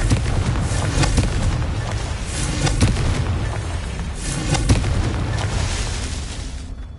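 Repeated Confringo blasting-spell explosions in Hogwarts Legacy, a steady series of dull booming bursts layered over continuous rumbling game ambience with no clear gaps.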